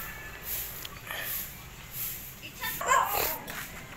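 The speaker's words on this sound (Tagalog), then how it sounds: "So, ang dami ditong aso." Dogs bark and yip faintly at a distance over a noisy outdoor background, with brief bursts scattered through the clip.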